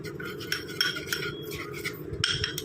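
A spoon stirs a coffee powder face pack mixture in a small bowl, making steady scraping and clinking against the sides with light rhythmic taps, close and continuous, with no voices.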